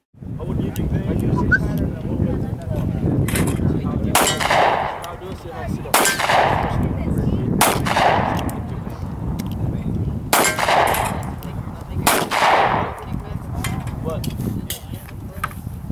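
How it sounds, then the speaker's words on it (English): Shots from a Smith & Wesson CS9 Chiefs Special pistol ring out as several sharp cracks spaced a second or two apart, set against steady outdoor background noise, with people talking in between. "A little bit more shooting footage."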